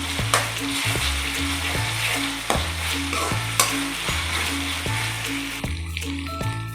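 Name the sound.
ginger garlic paste frying with onions for egg biryani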